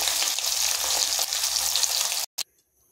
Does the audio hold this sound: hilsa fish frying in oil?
yes